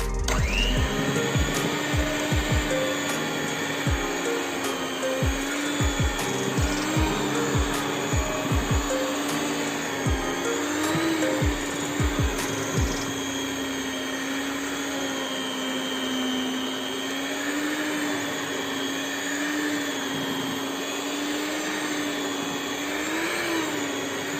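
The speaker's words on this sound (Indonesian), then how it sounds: "Sekarang aku akan ambil mixernya. Mixer dari kecepatan 3 ke 5 ya." A stand mixer kneads bread dough for soft rolled bakery bread at speed 3 to 5, a steady whirring motor hum with a wavering pitch and repeated knocking thumps early on, then a smooth continuous drone.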